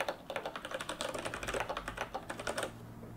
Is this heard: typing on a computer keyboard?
yes